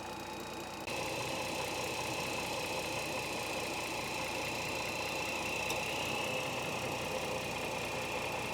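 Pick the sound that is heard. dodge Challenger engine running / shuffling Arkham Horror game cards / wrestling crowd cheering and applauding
dodge Challenger engine running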